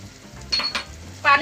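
Water splashes into frying masala, with yogurt added, in a pan while making bhindi masala (okra curry): a low sizzle and stirring clatter, with two brighter bursts of splash and hiss near the end, no talking.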